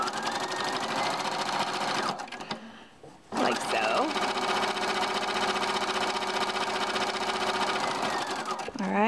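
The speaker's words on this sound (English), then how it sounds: "we're just going to sew down" A sewing machine stitches down folded fabric edges for a party dress, a steady fast mechanical whir that pauses briefly, then resumes and runs continuously.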